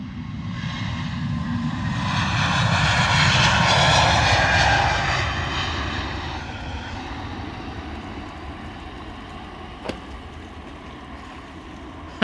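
Airliner engines roaring on the takeoff roll along runway 07 at London Luton Airport in fog, a loud broad jet rumble that swells to a peak then gradually fades as the aircraft moves away.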